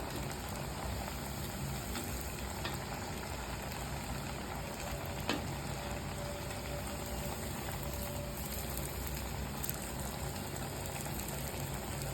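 Corn fritters fry in hot oil over a flame, giving a steady, dense sizzle and hiss that holds even throughout, with no voices.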